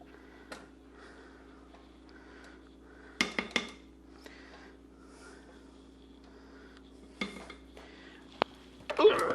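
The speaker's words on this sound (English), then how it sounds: "Let's scrape all that goodness off of there" Spatula scraping soft, creamy pumpkin spice cream cheese cake batter off the sides of a mixing bowl, with quiet scrapes and a few sharp clinks of utensils against the bowl in an otherwise quiet kitchen.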